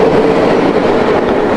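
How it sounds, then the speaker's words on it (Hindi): A train passing close by, loud and continuous with steady rumbling and rattling wheels throughout, no voices. "मेरे सामने से वो रेलगाड़ी भयानक आवाज करते हुए निकल गई।"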